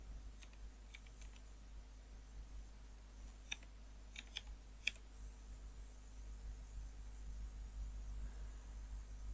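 Computer keyboard keys being typed, scattered quiet clicks in short bursts over a low steady hum, growing sparse and fading toward the end.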